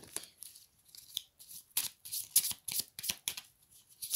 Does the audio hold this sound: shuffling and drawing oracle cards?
yes